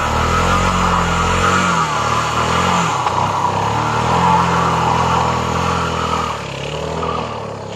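A SYM ADX TG 400 scooter engine runs steadily close by, a continuous mid-pitched drone that holds level and eases off slightly near the end, with no voices over it.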